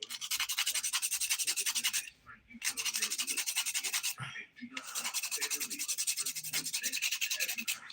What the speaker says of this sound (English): So I'm going to hand file that off right now.